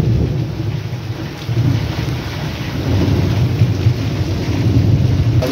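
Thunder rumbles low and heavy through a steady downpour of rain, a loud rolling roar that swells and persists for several seconds, with no talking.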